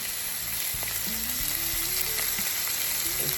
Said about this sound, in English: It's grilling already.